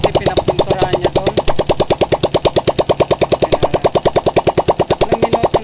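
A motorcycle engine with its exhaust just refitted runs loud and close in a fast, even pulsing beat that stays steady throughout.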